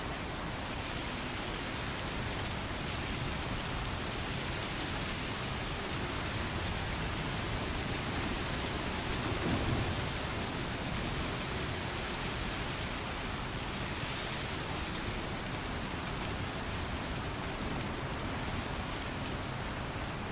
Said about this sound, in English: It's raining and it's -4